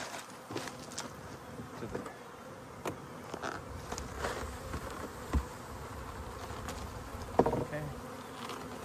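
Honey bees buzz around an open hive during a spring inspection, a steady insect drone with occasional closer passes and light knocks and handling noises, fairly quiet overall and with no speech.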